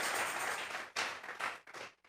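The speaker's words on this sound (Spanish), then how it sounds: "Vamos a regalarle ofrenda de palmas al Dios de la gloria." A church congregation applauding together, a dense wash of clapping that swells, dips and surges again in several bursts before fading briefly.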